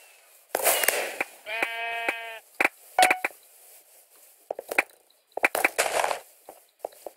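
Sheep in a video game bleat in a clear wavering call, set among sharp clicks and bursts of game effects that come and go against a quiet background.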